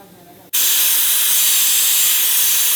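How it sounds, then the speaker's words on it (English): A shop air compressor releases a loud, steady hiss of air that starts abruptly after a quieter half-second and holds constant to the end. "The compressor at the shop."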